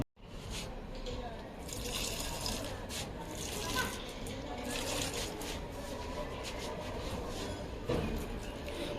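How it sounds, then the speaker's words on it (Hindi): Water poured onto potted plants at home, a steady broad splashing and running flow that continues throughout at moderate closeness, with a brief stronger surge near the end. "तो मैं अपने प्लांट्स में पानी डाल देती हूँ।"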